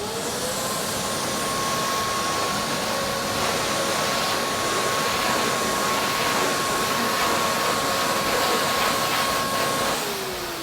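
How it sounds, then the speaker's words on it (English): A vacuum cleaner pulls dust off the surface of an old wooden furniture piece being stripped and restored, a loud, steady, unbroken whoosh with a faint tonal whine, running for about ten seconds without talk. "I'm going to vacuum off the surface."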